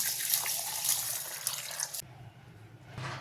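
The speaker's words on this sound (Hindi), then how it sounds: "1 गिलास इसके अंदर दूध डालेंगे" Milk poured into a glass for a melon shake, a steady liquid stream that runs loud for about two seconds, then drops off to a faint trickle before a brief final splash.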